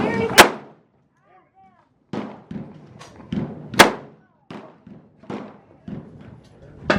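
A 20 gauge shotgun fires at an outdoor range, with two sharp, loud blasts a few seconds apart among lighter thuds and handling knocks, while people talk between shots.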